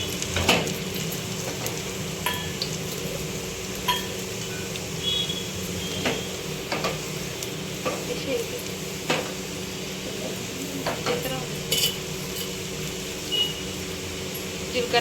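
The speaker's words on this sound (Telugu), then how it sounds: "ఇలా వేగుతున్నప్పుడే మినపప్పుకు శనగపప్పు వేసుకోవాలి జీలకర్ర" Urad dal, chana dal and cumin frying in hot oil for a Ugadi raw mango pickle, a steady soft sizzle running throughout with occasional small pops and clicks of stirring, with a low background hum.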